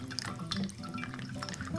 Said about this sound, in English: Look at all that water that just flowed past the filter.